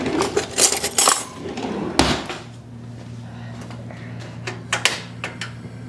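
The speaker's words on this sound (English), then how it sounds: "now I'm going to pull that rack out" A metal rack pulled out of a pressure cooker, with a few sharp metallic clanks and rattles up close, then a softer clink after a low steady hum.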